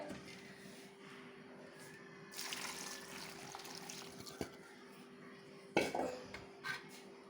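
Salty mango brine poured into a tender mango pickle, heard as soft trickling liquid with clinks of a steel vessel and spoon, fairly faint against steady background noise.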